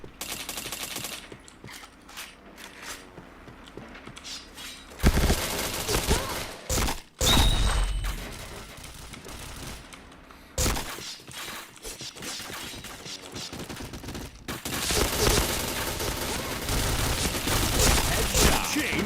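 Rapid automatic gunfire in the shooter game PointBlank, loud sustained bursts and fusillades with brief gaps and mechanical clicks, a voice talking intermittently over the shots.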